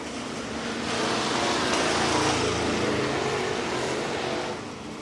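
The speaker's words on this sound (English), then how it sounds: "So our 602 late model series is pulling out" 602 late model race cars rolling out onto Screven Motor Speedway in Sylvania, Georgia, a dense, continuous roar of several engines swelling and holding loud before easing slightly at the end.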